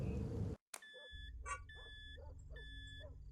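A dog barks in the horror video game Fears To Fathom: Carson House. A burst of noise cuts out abruptly, then four moderate barks follow at an even pace over a low hum, each paired with a high electronic beep.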